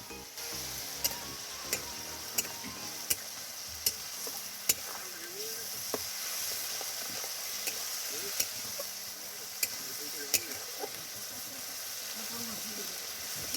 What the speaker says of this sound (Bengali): পেঁয়াজ রসুনটা কিন্তু একসাথে ভাজা হয়ে যাবে